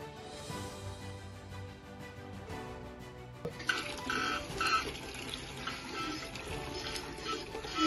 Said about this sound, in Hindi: बस इतना ही पानी आ रहा है।